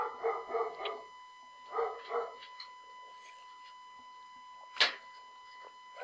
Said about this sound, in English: Dog's barking again.